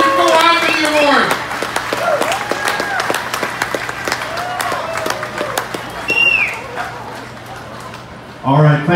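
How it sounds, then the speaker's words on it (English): An outdoor crowd at the TD Kitchener Blues Festival applauds its sponsors, a steady patter of many hands running under someone speaking over a microphone, ending with a brief louder burst. "Let's give all of them a round of applause"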